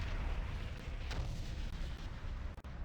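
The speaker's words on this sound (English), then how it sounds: "Detonate the explosives and let's get out of here." Explosives detonating in a video game, a rolling series of deep booms and rumbling blasts like distant artillery, with a few sharper cracks near the end.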